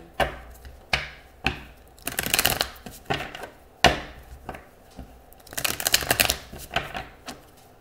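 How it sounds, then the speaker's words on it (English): Tarot cards being shuffled at close range, a series of sharp riffling bursts and slaps repeating every half second or so, with a couple of longer riffles, alone with no talk. "I'm hearing the shuffle three more times"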